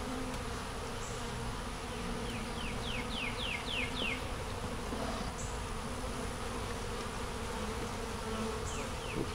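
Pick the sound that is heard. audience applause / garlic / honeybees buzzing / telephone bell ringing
honeybees buzzing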